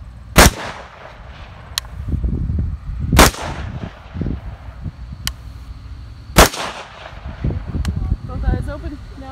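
Rifle fitted with an Aimpoint red dot sight fires three sharp, loud single shots a few seconds apart outdoors beside a bean field, with faint distant shots in between and talking throughout.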